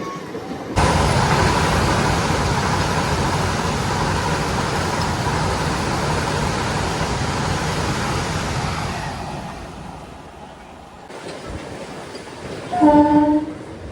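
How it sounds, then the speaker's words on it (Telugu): A MEMU passenger train between Kakinada and Visakhapatnam rumbles steadily at close range for most of the stretch, then fades and drops out before a brief burst of voices and a short tonal blare near the end. "సో మొత్తానికి మన ట్రైన్ అయితే అన్నవరం నుంచి కూడా తీసేసాడు"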